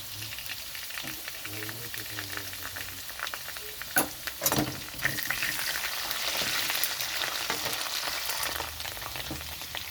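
Ginger paste hits hot oil in a pan already holding fried cut potatoes, whole cumin and bay leaves, for a cauliflower pakora curry: a steady close sizzle and crackle with a few louder stirring clatters partway through.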